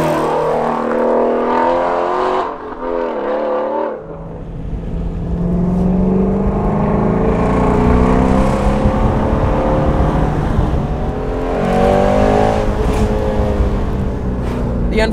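A Shelby GT350R is driven hard down a mountain road, its engine loud and close, revving up and down with steady acceleration and a sustained roar.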